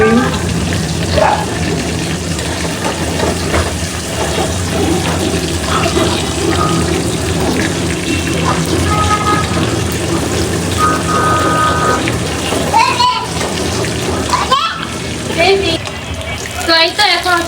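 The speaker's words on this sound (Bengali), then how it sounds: "পেঁয়াজ আর মেথি দিয়ে বাগার দেওয়া হলো, খুব সুন্দর ফ্লেভার হবে।" Onion and fenugreek hitting hot oil for a tempering, a loud, dense crackling sizzle running continuously with bursts of spattering, while someone talks over it.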